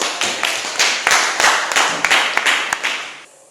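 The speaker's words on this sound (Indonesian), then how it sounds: "Mari kita berikan tepuk tangan sekalian" A classroom of students claps together in a lesson, a brisk burst of many hands close by that fills the room and fades out near the end, with no talk over it.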